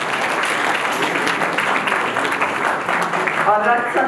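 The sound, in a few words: audience clapping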